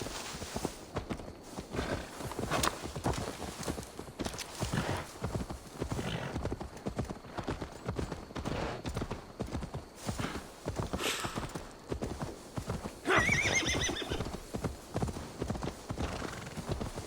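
Horse hooves clip-clop steadily through Assassin's Creed Valhalla gameplay while a horse is led to be delivered, with a brief whinny near the end over a continuous busy game soundscape.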